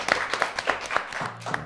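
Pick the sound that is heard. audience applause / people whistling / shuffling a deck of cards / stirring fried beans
audience applause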